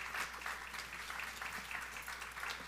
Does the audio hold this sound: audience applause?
yes